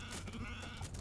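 Sheep bleat in the Age of Empires III strategy game, short calls layered over a steady bed of game sound and music, with no voices.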